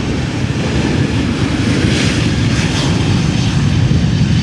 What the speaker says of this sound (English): This is a stubby 737-700.